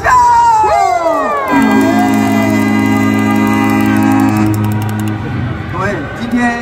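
Baseball crowd at the Taipei Dome cheering and screaming loudly for a Wing Stars cheer routine during a TSG Hawks versus CTBC Brothers game, with whoops and high shrieks above a steady roar and a loud amplified tone running through the middle.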